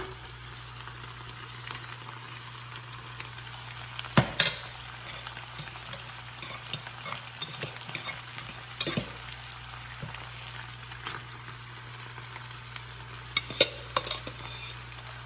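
Cold white rice fries with onions and garlic for Cuban fried rice, a soft continuous sizzle with frequent scraping and clinking of a utensil against the pan and a low steady hum beneath.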